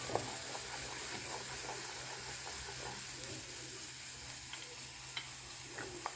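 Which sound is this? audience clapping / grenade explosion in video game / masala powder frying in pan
masala powder frying in pan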